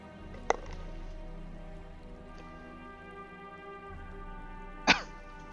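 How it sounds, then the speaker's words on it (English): A single sharp cough, then a second louder cough a few seconds later, close to the microphone over a steady background hum of game audio, from someone pausing while playing the game Hard West. "I have to cough."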